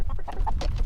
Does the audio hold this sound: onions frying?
no